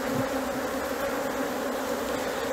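Honeybees hum in a dense, even drone from an open, well-stocked beehive during honey season, steady and close with no pauses.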